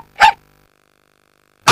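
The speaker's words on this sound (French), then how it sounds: "découvre Cousin Ruffo qui renifle et aboie quand tu l'emmènes avec toi" A toy dog in a television advert gives two short electronic barks, a clear yap followed by a long pause and a second yap, with no other sound around them.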